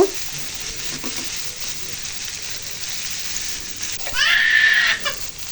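Onions frying in a pan with a spice paste of ginger, garlic, cumin, turmeric and chili, plus tomato, cooked down: a steady close sizzle that swells to a louder, brighter hiss toward the end, with no voices.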